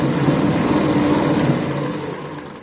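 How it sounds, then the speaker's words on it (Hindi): Sewing machine stitching along one side of a fabric strip for a kurti neck design, a steady close whirring run that eases slightly at the end, with no talk. "यहाँ पे जो हमने पट्टी ली हुई है इसको एक साइड से ऐसे सिलाई लगा लेंगे पूरी पट्टी"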